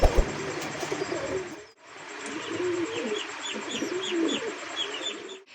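Young pigeons of domestic breeds such as Danish, satin, racer and Bombay coo in low, rolling phrases close by. Soft chirps are layered over the cooing, with a brief pause partway through and no voices.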